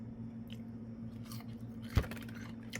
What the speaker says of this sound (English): Let's do a quick taste of the lettuce here.